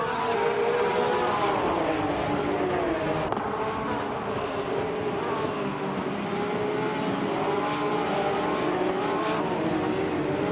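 Several 2010 Porsche 911 GT3 Cup race cars in a racing video game roar together at a speedway start, a loud continuous engine drone with rising and falling revs as the pack accelerates and shifts.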